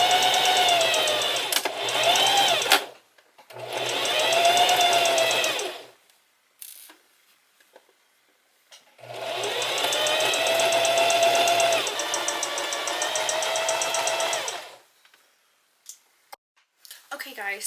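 A sewing machine stitches a cotton trouser leg from inseam to hem, running in two long steady bursts separated by pauses, close and fairly loud, with occasional clicks between runs.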